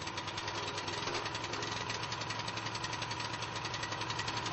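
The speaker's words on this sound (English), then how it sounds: "When the engine starts, open the throttle and allow the engine to reach full speed." A petrol engine on a concrete scarifier runs steadily at speed, a loud continuous rattling drone with rapid, even pulsing and no pauses.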